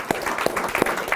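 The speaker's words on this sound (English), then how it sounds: "I wanted to give him a round of applause for that." Brief burst of audience applause at a WordPress event, a moderate crowd clapping with a few sharp individual claps standing out, no talk over it.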